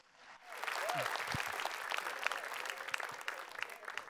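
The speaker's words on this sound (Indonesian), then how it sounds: "Beri tepuk tangan sekali lagi untuk Gautama dan juga Ilham." An audience at an Indonesian stand-up comedy show breaks into applause that swells quickly and holds as a dense, steady wash of clapping, with faint voices mixed in.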